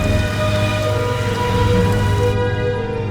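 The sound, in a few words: rain storm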